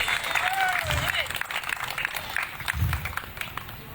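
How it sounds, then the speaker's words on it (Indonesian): A church congregation in Sentani applauds for Jesus, a moderate, continuous wash of clapping mixed with crowd noise and a voice gliding over it. "Tepuk tangan yang paling meriah buat Tuhan Yesus"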